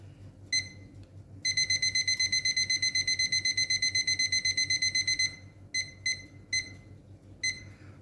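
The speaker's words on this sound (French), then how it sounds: "je vais mettre 45 minutes à mon minuteur." Kitchen timer beeping as it is set for 45 minutes during oven cooking of an aubergine terrine, with single beeps, then a long run of rapid regular beeps, then a few more short beeps, close and clear over low room hum.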